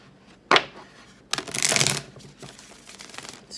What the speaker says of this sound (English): We'll do 3 shuffles.